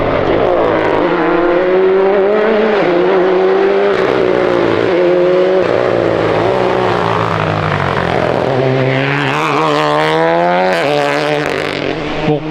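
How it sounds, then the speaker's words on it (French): Rally4 rally cars racing through a mountain village during the Monte Carlo Rally, loud engines roaring close by with harmonic revving that climbs sharply as a car accelerates past near the end. "C'est les Rallye 4 qui passent maintenant."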